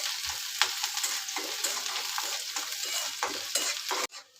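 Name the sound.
onion and curry leaves frying in hot oil, stirred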